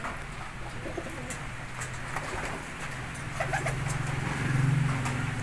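Pigeons coo softly beneath a steady patter of rain, their low calls swelling toward the end while they shelter under a roof at a coop in Dagupan City, Pangasinan.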